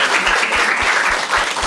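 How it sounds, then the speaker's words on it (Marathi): Marathi stand-up comedy audience applauding, a short burst of dense, loud clapping that fills the moment without talk. "टाळ्या वाजाय दोघांसाठी एकदम"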